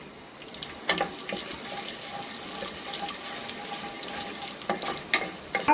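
Chana dal, fenugreek and dried sundakkai and manathakkali berries frying in oil for vatha kuzhambu: a bright, watery crackle and hiss is broken by clattering stirs and scrapes, close by, with no talking.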